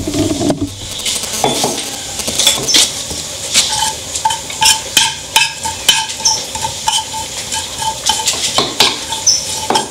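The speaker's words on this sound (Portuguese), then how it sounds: "Bate assim mesmo. Só segurar assim, ó. É. E socar o alho." Garlic pounded in a large wooden mortar, a run of irregular knocking thuds and scrapes close by, with faint clinks of kitchenware and no voices.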